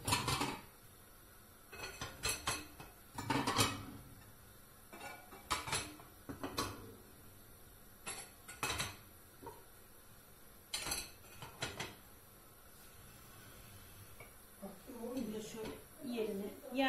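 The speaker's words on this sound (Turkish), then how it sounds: "Şu tabaklarımızı da bir dizelim." Ceramic plates being arranged and stacked on a kitchen counter, with scattered sharp clinks and knocks spaced irregularly through the stretch over a quiet background, some louder nearer clatters among softer ones.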